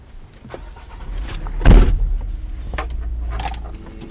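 A waste collection truck on its collection round, its engine rumbling low and steady from inside the cab, with a brief louder surge midway and mechanical clunks and rattles.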